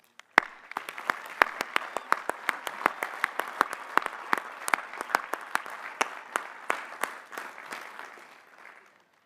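Applause from a commencement audience for new Doctors of Philosophy at a graduate hooding ceremony, starting with one sharp clap, then swelling into steady clapping with distinct loud individual claps standing out, before tapering off near the end.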